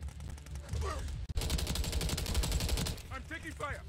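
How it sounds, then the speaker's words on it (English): Sustained automatic gunfire in a Call of Duty MW3 Domination match, a steady rapid stream of shots with a brief gap midway, heard under a player's talking. "I'm taking fire."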